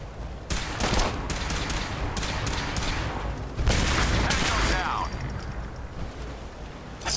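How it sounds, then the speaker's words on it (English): Sustained gunfire rattles through a battle in the video game Fallout 4, dense bursts of rapid shots for several seconds that then fade into quieter ambience, with voices talking over it. "What are you shooting at?"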